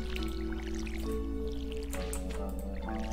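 Watering can sprinkling crops in the Stardew Valley farming game, soft dripping splashes over a steady layer of in-game music, continuous and close for the whole stretch.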